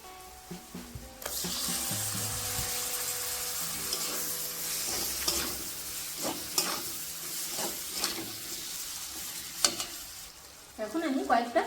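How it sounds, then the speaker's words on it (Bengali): Chopped tomatoes with Kashmiri chili, cumin and coriander powders go into hot oil for egg masala, bursting into a loud, sustained sizzle with stirring scrapes and pops; a voice briefly speaks at the end. "জিরের গুঁড়ো, ধনের গুঁড়ো, এখন আমি কুচানো টমেটোগুলোকেও দিয়ে দেবো।"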